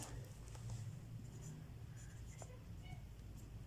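Pen writing out the answer to a maths word problem by hand, a soft continuous scratching close by with no talk over it.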